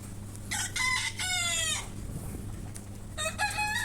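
Young roosters crow on a small home poultry farm: two drawn-out crows close together, then a third after a pause, with a low steady hum underneath.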